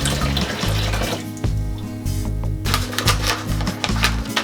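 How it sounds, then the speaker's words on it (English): Boiling water being poured into a homebrew cider mix, a continuous splashing gush with a few clinks and knocks of equipment, close and fairly loud. "We've now just got to add 3 litres of boiling water."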